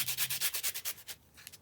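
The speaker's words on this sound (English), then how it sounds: "I'm going to just sand them first with my sanding block." A sanding block is rubbed briskly back and forth over chipboard tiles, making about ten quick, close, rhythmic rasping strokes that slow and fade near the end.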